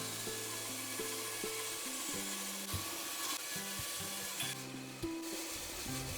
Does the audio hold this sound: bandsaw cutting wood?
yes